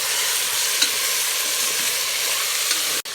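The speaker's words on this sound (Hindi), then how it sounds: "यहाँ पे हमारा मसाला गर्म हो चुका है तो गोश्त डाल लेते हैं, इसको फ्राई कर लेते हैं।" Meat (gosht) frying in hot masala for aloo gosht, a steady close sizzle running the whole time with a soft stir or two and a brief dropout near the end.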